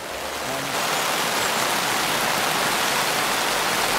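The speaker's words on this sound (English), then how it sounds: "Looks like we've got rain set in for definitely the morning." Steady rain falls on a tent during a multi-day walk on the Pennine Way, a dense, even hiss that holds throughout and thickens after the first moment, with no talking.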